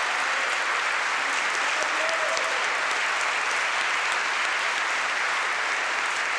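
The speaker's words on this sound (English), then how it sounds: "Another round of applause." A crowd at a celebration of life gives sustained, even applause that fills the room for several seconds without a break, dense and moderately loud throughout.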